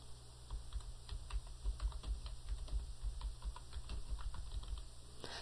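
Quiet, steady typing on a computer keyboard, with soft rapid key clicks in an irregular rhythm and no talking.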